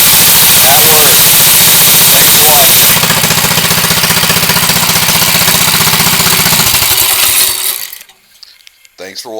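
A vintage 1970 Fox Street Scamp mini bike engine runs loud and close with a rough, rapid chatter, its pitch shifting partway through, then cuts out, leaving near-silence and a few soft knocks.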